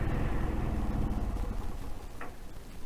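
A struggling motorcycle engine failing to start properly and labouring on a mountain climb with suspected carburettor trouble, a steady, rough low rumble that dips slightly partway through.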